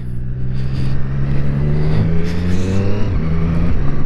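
A Triumph Street Triple RS with a 765cc three-cylinder engine hums steadily and close by, its tone rising and dipping slightly with throttle, with no voices over it.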